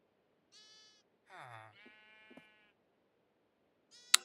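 Sheep in a Minecraft-style survival game bleat several times in short, clear, wavering cries, isolated against a quiet background with a final sharp click.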